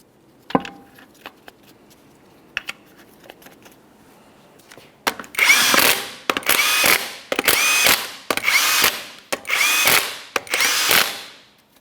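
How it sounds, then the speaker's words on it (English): A power tool spins 21mm lug nuts onto a Ford F-150 front wheel. A few faint clicks and handling knocks come first, then a series of about seven loud, close bursts of whirring and ratcheting, each separated by short pauses. "start on all 6 of our 21mm lug nuts"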